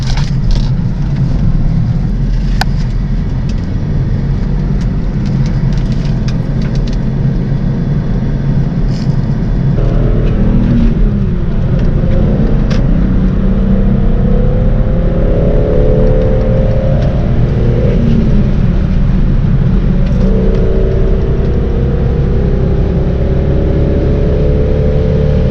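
An old, slow car drives steadily for a long stretch: a loud, continuous engine drone and road noise, the engine rising in pitch as it accelerates and shifts through gears, with no voices.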